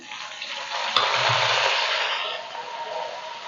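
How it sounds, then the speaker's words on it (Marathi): Curry leaves and green chillies drop into hot oil already holding cumin, for a tangy tomato chutney, setting off a sudden loud hiss that holds steady and then eases slightly, with no one talking. "त्यानंतर घालूया मिरची कढीपत्ता घालूया आता कढीपत्ता घालून घेऊया"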